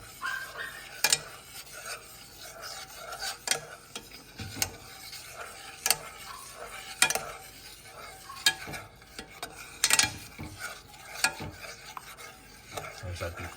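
Spicy honey BBQ sauce on a low simmer in a pan, a soft bubbling hiss punctuated by repeated sharp clinks and scrapes of a utensil stirring against the pan.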